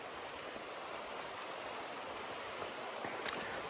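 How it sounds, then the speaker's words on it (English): Water drips off trail-side leaves just after rain on the Appalachian Trail, heard as a steady, soft hiss of wet foliage with scattered faint drops, with no voices. "There's just water dripping off the leaves now."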